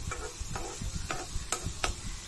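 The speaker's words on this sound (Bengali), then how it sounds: "ভালো করে আর কি ভাজা ভাজা করে নিচ্ছি আমি।" Maggi noodles being fried and stirred in a pan, with soft sizzling under repeated scraping stir strokes, about five distinct scrapes at a steady rhythm, close and fairly quiet, with no talking.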